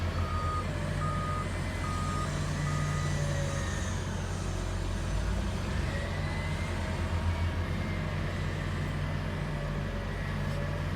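A wheel loader loading a truck sounds its reversing alarm in a regular series of clear, repeated beeps over a constant heavy diesel rumble from the working machinery.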